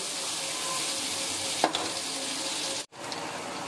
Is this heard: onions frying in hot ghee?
yes